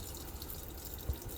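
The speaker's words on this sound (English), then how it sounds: "So if I turn the faucet on" Water runs steadily from a faucet aboard the sailboat S/V Althea: a soft, even hiss and splash throughout, with one small thump near the end.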